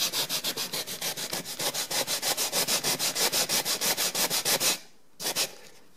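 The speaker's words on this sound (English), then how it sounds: "But yet I still have a corner here to sand this top edge." Hand sanding the top edge of wooden crown molding, heard as fast, even back-and-forth scratchy strokes, close and loud, that stop briefly and then give one last short pass.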